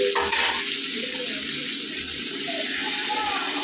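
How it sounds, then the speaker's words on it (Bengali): Water poured into a pan of fried potatoes gives a steady rushing splash over a bubbling hiss, loud and close, with a short clatter at the start. "এর মধ্যে আমি জল অ্যাড করবো"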